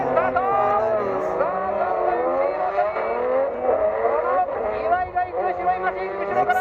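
A Lexus drift car revs and screams at high rpm close by, the engine tone rising and wavering continuously with possible tire squeal, with voices speaking over it.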